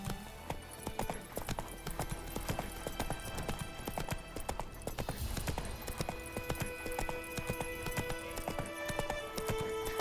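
A horse ridden at a gallop in the video game The Witcher 3, rapid rhythmic hoof clip-clops pounding close and loud, with a short whinny and a few faint background sounds mixed in.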